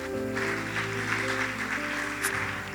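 Congregation applauding the Lord during a church service, a diffuse wash of clapping blended with sustained keyboard chords playing underneath, moderately loud and continuous.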